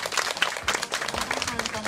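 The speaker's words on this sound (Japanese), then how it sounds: "盛大な拍手をお願いいた" An audience at an ethical fashion show event applauds after an upcycled costume presentation, a brief burst of scattered clapping with a voice talking over it.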